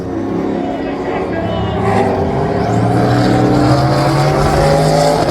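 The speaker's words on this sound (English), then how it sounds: "Wow, what a race! The 3 Series BMW. Yes, sir. And the GT350 Mustang." A BMW 3 Series and a Ford Mustang GT350 drag racing at a spectator drag championship, their engines a loud, steady roar that builds slightly throughout, close up and continuous.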